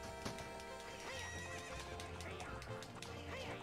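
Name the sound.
horse Epona neighing and galloping, video game Zelda Ocarina of Time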